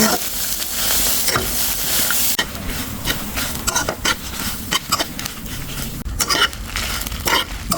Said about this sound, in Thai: ทุกคนนี่หอมกระเทียมค่ะ ตะไคร้พริกแห้งนะคะ คั่วเลย คั่วให้หอมเลยนะ